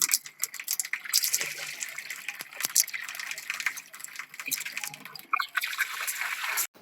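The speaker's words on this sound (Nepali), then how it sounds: "यहाँ पानी हाले र यसमा राम्रोसँग 2-3 चोटि धुनु पर्ने हुन्छ चुरालाई।" Water is poured over beaten rice (chiura) in a bowl to wash it for dahi chiura, giving a close, steady splashing and trickling with small drips.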